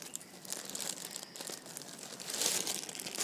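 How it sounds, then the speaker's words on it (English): Tape peeled off the plastic packaging of a poo emoji pillow: close, continuous crinkling and tearing lasting a few seconds, rising slightly louder toward the end, with no talking. "Just peel off the tape and you're ready."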